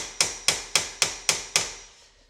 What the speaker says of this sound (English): I'm just finishing off, hammering that down